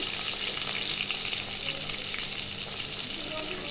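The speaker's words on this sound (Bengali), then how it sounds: "আমি হাঁড়িতে পেঁয়াজ, রসুন এবং শুকনো মরিচ এগুলো দিয়ে দিচ্ছি" Onion, garlic and dried chillies frying in a pot make a continuous loud sizzle and hiss, steady from start to end, with a watery, tap-like wash blended in.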